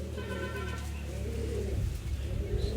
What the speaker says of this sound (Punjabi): ਇਹ ਵੱਡੀ ਕਬੂਤਰੀ ਆ